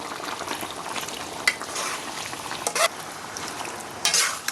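Vietnamese beef stew (bò kho) with tomato paste is stirred as it fries, giving a steady close sizzle broken by brief utensil scrapes and clinks against the pot.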